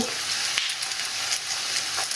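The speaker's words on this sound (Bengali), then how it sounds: "আমি এক এক সাইড এরকম করে ভেজে নিব" Chicken samosas fry in hot oil for an iftar snack, giving a dense, continuous sizzle with small crackling pops throughout and no speech.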